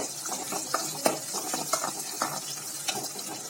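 Chopped big onion sautéing in a hot pan for mutton liver fry, a soft continuous sizzle broken by scraping stirs and light ladle taps, close and fairly quiet.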